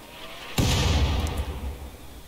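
A single loud shot from a mechanite cluster turret in RimWorld bursts out sharply, then trails off into a rumbling, noisy decay that lasts about two seconds.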